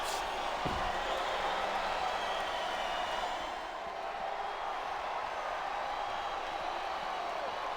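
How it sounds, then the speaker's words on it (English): Capacity WWE arena crowd during a Triple H vs. Randy Orton World Heavyweight Buried Alive match, a loud, continuous wash of roaring and shouting, opening with a sharp slam-like thud, with commentary voices faint beneath. "This capacity crowd is making their opinions known tonight."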